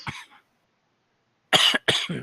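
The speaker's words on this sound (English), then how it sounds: "Excuse my coughing." Three harsh coughs from one person close by: a single bark, a pause of over a second, then two quick coughs in succession.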